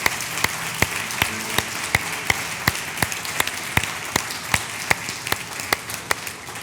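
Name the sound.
congregation applauding in church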